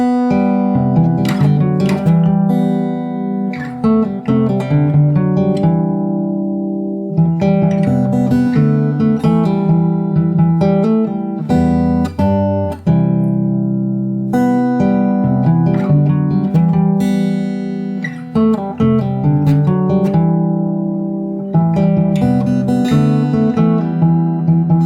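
Fingerstyle acoustic guitar plays the chorus of a song, with plucked chords and a steady bass line ringing close and clear, alone with no talking.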